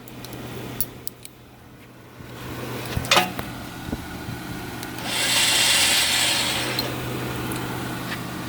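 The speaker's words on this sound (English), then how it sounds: "It's a little loud. The winch seems to work real good." A Jeep's electric winch, worked by a handheld remote, runs with a loud, steady mechanical whine and grind that rises midway and holds for a couple of seconds, amid scattered clicks and handling knocks.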